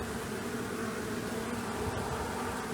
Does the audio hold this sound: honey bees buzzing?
yes